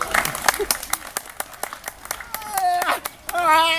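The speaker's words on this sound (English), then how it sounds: "that's clapping to get the thing up here" People clap in sharp, irregular claps close by, a dozen or so hits spread over a few seconds, with voices talking and exclaiming over them.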